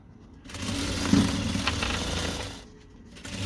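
A sewing machine stitches fabric squares together for a bag, giving a steady mechanical whir for about two seconds that starts and stops cleanly against a quiet room.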